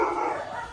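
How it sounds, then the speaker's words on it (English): Dogs bark and howl nearby in a short, strained burst at a house, with no talking over them. "wait for them dogs to shut up."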